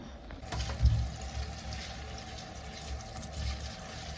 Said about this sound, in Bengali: থানকুনি পাতা ভালো করে ধুতে হবে